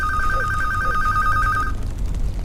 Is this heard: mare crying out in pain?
no